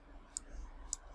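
Two soft, separate computer mouse clicks about half a second apart, close and quiet against a faint room hum while file-extraction software for unlocking an iPhone SIM runs on a computer.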